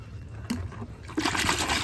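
Water trickles and splashes steadily, growing louder and fuller partway through, like liquid being poured close by.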